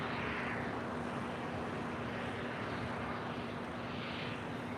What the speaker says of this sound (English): This Hawaiian Flight 10 coming in from Honolulu, now pulling into the gates.